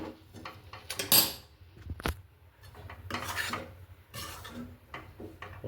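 Besan being stirred in ghee in a pan while making besan laddu: a spoon scrapes and rasps against the metal pan in irregular strokes, with sharp clinks now and then, close and fairly quiet.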